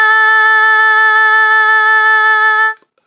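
A sustained oboe tone played with throat vibrato, the pitch pulsing steadily back and forth as the throat contracts and expands, then cutting off cleanly; loud, close and solo.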